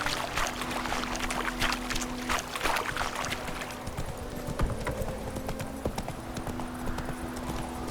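Roach the horse's hooves clip-clop steadily in The Witcher 3, a continuous rhythmic trot on a path, close and moderately loud over a low ambient hum, with a faint whinny-like note and brief character talk nearby.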